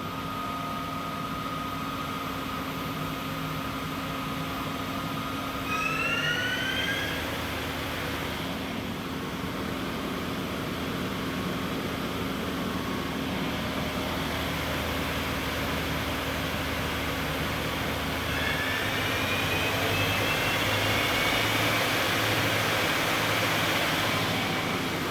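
The spindle of a Doosan Puma 4100LB CNC turning center runs at about 1650 RPM, giving a steady close mechanical hum and whine that holds throughout and briefly rises in pitch twice.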